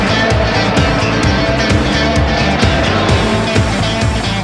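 Stock car race engines roar in the EA Sports NASCAR video game on PS2, a loud, continuous drone with repeated rising and falling revs as cars rush past.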